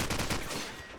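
A scoped SMG firing in a competitive online shooter match, a quick loud burst of rapid automatic shots over about a second.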